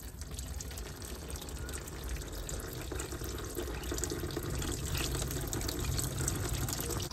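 Antifreeze drains from the radiator drain of a Ford RV motorhome, a steady faint gushing trickle of liquid running without pause.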